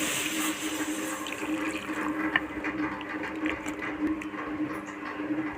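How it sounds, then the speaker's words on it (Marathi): Water is poured into a clay pot holding potatoes and drumsticks, cooking over a wood-fired stove; a steady close splashing and filling runs throughout with no speech. "शेंगा आणि बटाटा शिजण्यासाठी आपण पाणी घालतोय आता थोडं"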